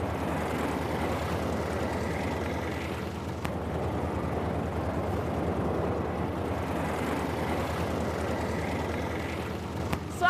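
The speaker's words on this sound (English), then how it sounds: "The engine, which runs on petrol, is a used Volkswagen engine which produces power to drive the propeller." Light aircraft built by two brothers in Ghana, its propeller driven by a used Volkswagen petrol engine, drones steadily and loudly for the whole stretch, a dense low rumble with no pauses.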